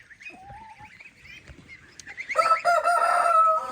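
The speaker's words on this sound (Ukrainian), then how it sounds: "ось півник" A naked-neck rooster crows loudly nearby, a long strained call rising at the end, with softer clucks and bird calls before it.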